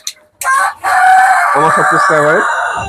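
A fancy-breed rooster on a small farm lets out one loud, close crow that holds steady and then warbles, following a brief sharp sound at the start.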